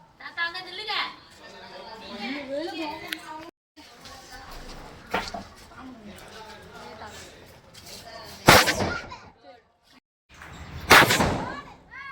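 People talk and shout over a few sharp Diwali firecracker bangs, including two loud close bursts near the end, separated by short quiet gaps.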